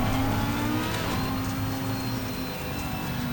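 An Audi R8 race car engine in Assetto Corsa Competizione drones steadily and loud at Imola, with a sustained low tone holding through the whole stretch and no talk over it.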